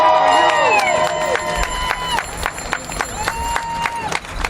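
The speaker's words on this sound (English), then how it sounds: "Give a big round of applause and support for Native Lives Matter." A crowd at a Native Lives Matter gathering whoops, cheers and claps. Loud rising yells and whistles come over scattered applause, close and lively, tapering off toward the end.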